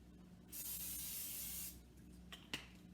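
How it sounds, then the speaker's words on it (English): Cooking spray hisses onto a tortilla in a kitchen in one steady burst of a little over a second, loud and close, followed by faint clinks. "After that, we can spray our tortilla."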